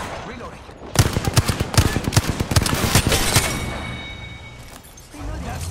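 Rapid gunfire from the Wingman pistol in the video game Apex Legends, a steady run of loud, sharp shots over about two and a half seconds, then fading into game ambience.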